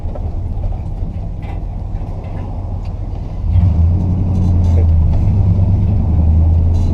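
Car with a column-shift three-on-the-tree manual gearbox idling at a steady low rumble, the engine note rising and deepening midway as revs pick up, with someone talking over it.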